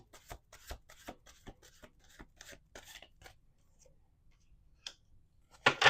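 Tarot cards are riffled and shuffled on a table, a quick series of soft papery flicks and rubs, close and quiet, thinning to a pause before a louder burst of shuffling at the end.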